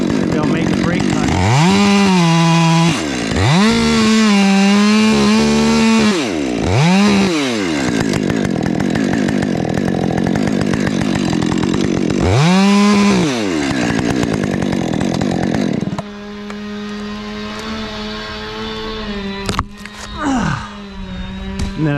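A chainsaw makes a brake cut in a large tree during a solo takedown, revving loudly and close with repeated rises and falls in pitch, then settling into a steady idle-like drone near the end.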